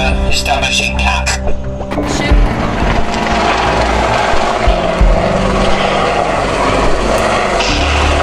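Tornado GR4 jets at the Biggin Hill air show roar past overhead, a loud, rushing engine noise that swells and sweeps through the whole stretch over outdoor crowd ambience.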